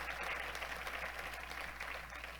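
Faint, steady applause from a church congregation, an even wash of clapping heard from a distance with no voices over it.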